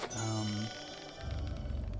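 A loud phone notification chimes with a bright ringing tone that holds briefly, then fades into a low rumbling background.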